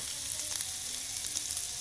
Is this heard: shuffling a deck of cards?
no